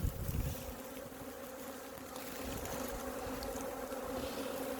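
Honey bees from a nucleus hive buzz steadily and close, a dense droning hum that persists throughout with a louder burst at the start.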